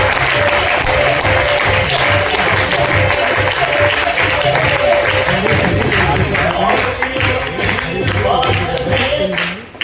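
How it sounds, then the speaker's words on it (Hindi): Applause for business achievers coming on stage, loud sustained crowd clapping over rhythmic music with a steady beat, fading slightly at the end, voices faintly present. "जोरदार तालियों के साथ म्यूजिक के साथ।"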